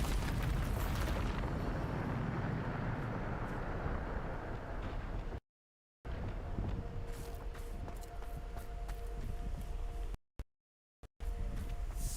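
The Bombarda explosion spell from Hogwarts Legacy bursts with a roaring, rumbling blast that fades into a long low wash, broken by sudden cuts to silence, with later rumbles and no voices.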